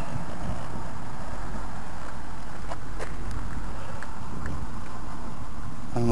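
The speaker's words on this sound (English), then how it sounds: "It's windy today" Gusty wind blowing outdoors beside a road, a steady low buffeting roar against the microphone with faint passing-traffic rumble, continuous throughout.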